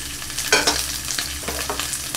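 Kimchi and ham stir-fry for kimchi fried rice, giving a loud, close sizzle broken by quick scraping strokes of a utensil against the pan.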